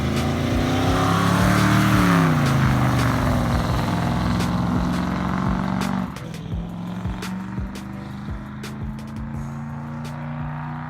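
A 1966 Ford Mustang engine revs hard at an auto auction, climbing in pitch, then drops and settles into a loud, rough idle with sharp clicks and crowd noise around it.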